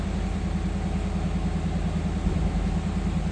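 A 1991 Chevrolet Camaro RS coupe idles steadily with a low, even exhaust rumble through its complete exhaust with intact catalytic converters, close by and continuous.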